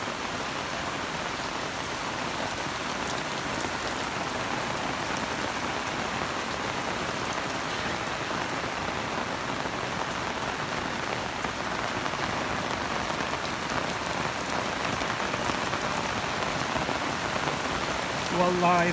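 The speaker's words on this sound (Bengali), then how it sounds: "খুব মুষলধারে বৃষ্টি হচ্ছে" Heavy torrential rain pours onto a rooftop garden in a dense, unbroken roar of drops that stays loud and steady throughout.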